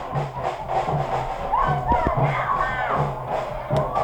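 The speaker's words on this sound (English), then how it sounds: "Crowd going strong tonight. Drums very loud up here in the press box here at the Soccerplex." Soccer crowd at the Maryland Soccerplex during a NISA match between the Maryland Bobcats and Syracuse Pulse, loud rhythmic drumbeats pounding steadily over a roaring crowd, heard from the press box with a commentator talking over it.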